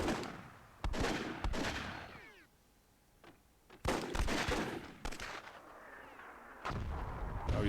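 Heavy booming gunfire and cannon shots in the WWII game Myth II Soulblighter, loud repeated blasts in clusters separated by quieter gaps, each hit sharp and close.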